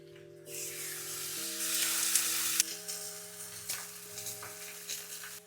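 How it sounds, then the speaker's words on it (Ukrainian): Steady sizzling of chicken fillet frying in a pan, with a faint underlying tone and occasional light clinks; no voices. "Така куряча філешка буде смажитись десь 8 хвилин з кожного боку по 4 хвилини"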